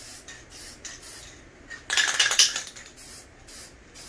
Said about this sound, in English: just be disciplined, guys, when you're spraying